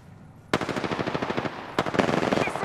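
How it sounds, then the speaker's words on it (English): Rapid automatic gunfire in the battle royale video game Apex Legends: two close, loud bursts of evenly spaced shots, the second starting after a brief pause. "Listen up, I'm getting shot at."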